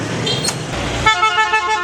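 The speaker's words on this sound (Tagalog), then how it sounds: "Mahilig sila busina." Vehicle horns blare in busy Vietnam street traffic: a rumbling engine and road noise first, then a sustained, loud, bright horn blast with a second horn pulsing close by.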